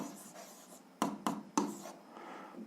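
Close-up pen strokes on paper while working out an algebra solution by hand, soft scratching with three sharper taps in quick succession near the middle, quiet and alone.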